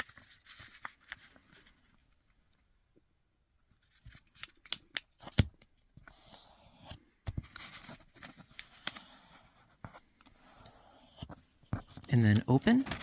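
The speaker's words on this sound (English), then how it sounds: "So fold in half to make a triangle." Paper is folded in half into a triangle for an origami fluted diamond ornament, giving soft, close crinkles and sharp creasing taps in short bursts with pauses between.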